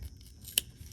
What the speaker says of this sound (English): take my scissors and make some cuts